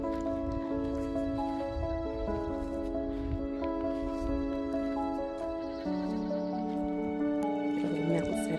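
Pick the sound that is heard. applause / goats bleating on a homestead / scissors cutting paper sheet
goats bleating on a homestead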